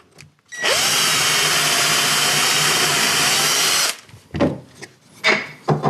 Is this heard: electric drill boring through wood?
yes